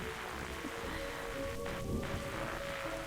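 Rain falls in a night scene of The Darkside Detective video game, a constant hiss of rain on surfaces with a steady low hum beneath and no voices.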